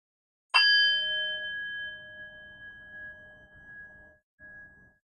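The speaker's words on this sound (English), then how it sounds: "in just a moment I will ring the bell, ending our first round of meditation" A meditation bell is struck once, ringing out clearly and alone in a quiet room, its bright tone fading slowly over several seconds.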